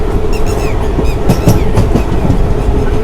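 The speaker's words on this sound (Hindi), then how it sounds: "और क्या खूबसूरत कर्व ले रही है हमारी ट्रेन।" Ahmedabad–Jammu Tawi Express sleeper train rolling along the tracks, probably diesel-hauled, with a loud continuous rumble and rhythmic clickety-clack of wheels, heard close from inside the coach.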